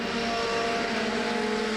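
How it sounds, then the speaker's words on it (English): A jet dryer blowing oil-dry off the track surface during a caution at the 1994 CART race at Nazareth, a constant, loud turbine roar with a steady tonal hum and no commentary over it. "they're using the jet cleaner to try and blow it off the track"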